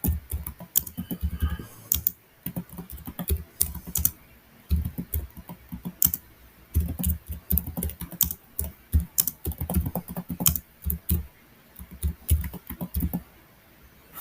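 Someone types a prompt on a computer keyboard in a steady run of close key clicks and taps, with brief pauses between bursts, all through the recording and without any voices.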